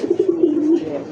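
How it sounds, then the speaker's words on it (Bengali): A Rasgolla pigeon pair, local pure breed, cooing near and loud in a fast warbling rolling coo lasting about a second. "মাশা চোরকির মতো ঘুরে ঘুরে ডাকতেছে, দেশি পিওর রাসগোল্লা কবুতর ভাই"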